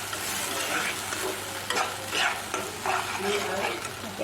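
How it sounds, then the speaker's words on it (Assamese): Paneer lababdar gravy fries in a pan, a continuous sizzle broken by repeated scraping strokes of a stirring spoon, close and fairly loud with no talk. "গ্রেভিটি ভাজিলাম"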